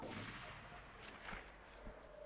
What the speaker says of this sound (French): C'est quoi ces coups de feu?